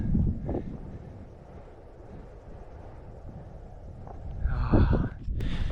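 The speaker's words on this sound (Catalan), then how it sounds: "la veritat és que fot un fred, bueno, un vent molt fred" Cold mountain wind gusts across a high pass in the Pyrenees, buffeting the microphone with low rumbling blasts that ease off mid-clip and then strengthen again toward the end.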